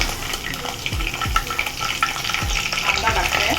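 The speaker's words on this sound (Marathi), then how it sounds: "कढीपत्ता टाकला," Curry leaves sizzle in about two spoons of hot oil as tempering for black-eyed pea usal, a steady crackling fry broken by several soft stirring knocks.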